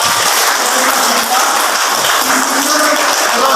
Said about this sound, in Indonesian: Beri tepuk tangan untuk Bapak.